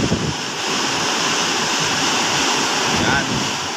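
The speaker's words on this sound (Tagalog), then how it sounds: "lakas ang ulan. Ayan, sobrang hangin." Strong typhoon wind roaring continuously with heavy rain pouring down, a loud, steady wash of noise with no clear breaks.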